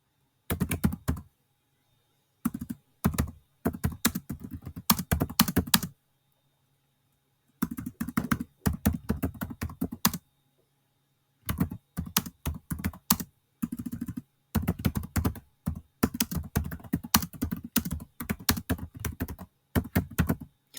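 Bursts of typing on a computer keyboard, brisk clusters of keystrokes separated by short pauses, close and fairly loud with no voices.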